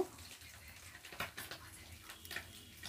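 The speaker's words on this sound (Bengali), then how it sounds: "আর দিয়ে দেবো পরিমাণ মতো একটু জল" Water is poured into a cooking pan while making a Bengali curry with fried bori lentil dumplings, a faint, splashy trickle in short uneven bursts over a quiet background.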